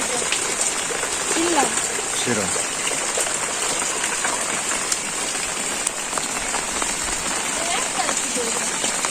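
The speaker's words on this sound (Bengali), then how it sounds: "বৃষ্টিতে ছাদের দিকে জল পড়তেছে পাইপ দিয়ে।" Steady rain pours down continuously on a rooftop in a wetland village, a dense even hiss of drops on a surface, with a few faint bird calls in the background.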